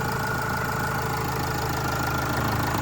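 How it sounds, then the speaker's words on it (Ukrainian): A 2011 Opel Vivaro passenger van's 2.5-litre, 150 hp engine idles steadily up close, a constant low rumble with a faint rhythmic knock, unbroken and without voices. "Просто ідеальна робота мотора."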